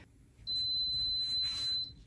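A heat press gives one long, steady electronic beep lasting about a second and a half, clear and alone.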